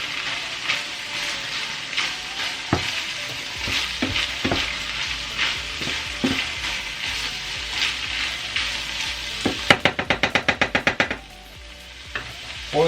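Cottage pie filling fries steadily in a pan with a bright sizzle while a spoon scrapes and stirs. Near the end comes a rapid run of ratcheting clicks, and then the frying drops away. The sound is close and loud, and nobody speaks.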